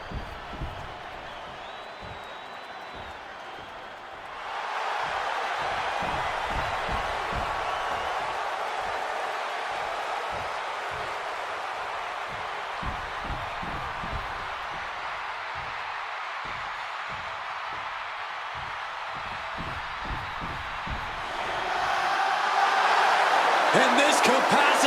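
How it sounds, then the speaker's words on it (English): Capacity arena crowd in the WWE 2K26 wrestling game roaring for a Seth Rollins versus CM Punk match, a dense sustained cheer that swells in after a few seconds and surges louder near the end, with announcer commentary over it. "And this capacity crowd just exploded."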